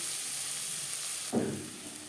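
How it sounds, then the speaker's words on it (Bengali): Onions for a lentil-based lunch dish fry in a pan with a steady, close hiss of sizzling oil. A short burst of stirring comes near the end. "পেঁয়াজ লালচে করে ভেজে নেব"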